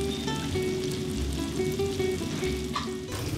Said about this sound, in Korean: 지글지글 창밖으로 새어나가는 빈대떡 익는 소리가 일찌감치 손님을 반깁니다